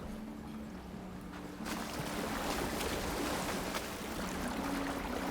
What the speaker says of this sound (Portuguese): Water's flowing towards the drain in the wall.